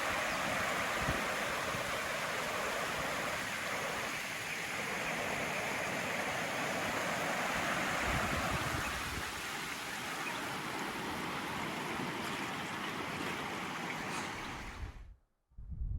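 The Thompson River flows in a steady broad rush of water, a constant hiss heard from nearby for most of the stretch before cutting off abruptly near the end, with no voices.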